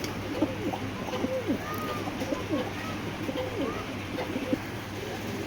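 Hammer pigeons kept as tournament birds coo in soft, repeated rolling phrases, fairly quiet and close, with a few overlapping calls.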